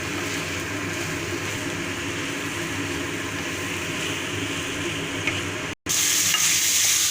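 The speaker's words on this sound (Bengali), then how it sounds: "খুব ভালোভাবে এটা আমাকে মিশিয়ে নিতে হবে।" Banana flower curry with chickpeas being stirred in a pan, a steady sizzle and scraping of spices and vegetables that runs continuously, broken by a brief cut before a brighter, louder frying hiss resumes.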